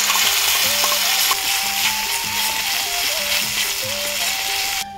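Tomato paste frying in a pan for a banana-flower (mocha) ghonto, giving a steady, close broadband sizzle with faint stirring scrapes, under soft tonal background music throughout.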